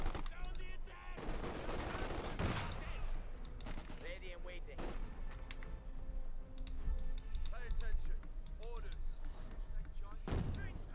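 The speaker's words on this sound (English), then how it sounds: "White phosphorus off there." A white phosphorus barrage in Company of Heroes 2: repeated booming impacts and crackling bursts amid gunfire and clattering battle noise, dense and steady throughout, mixed with faint game voice calls.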